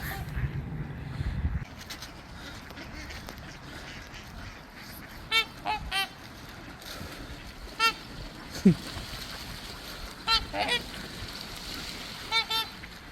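Geese honk on a Minnesota lake, a series of separate nasal calls spaced irregularly over a quiet outdoor background, with a low rumble at the start and some talking in the background.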